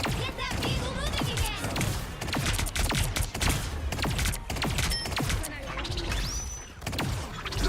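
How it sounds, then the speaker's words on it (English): Rapid bursts of gunfire in the hero shooter Marvel Rivals, sharp repeated shots crackling through a busy battle mix with thumps and mechanical clatter, loud and dense from start to finish. "These shots actually sound really cool."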